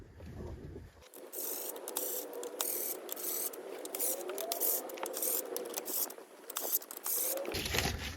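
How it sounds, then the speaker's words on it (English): A power tool runs in short, light trigger bursts to start the cylinder head bolts on a Prius engine, a near whirring and clicking mechanical buzz lasting several seconds with brief quiet stretches at the start and end. "I'm just gonna get these bolts started. I'm not gonna go heavy on the trigger."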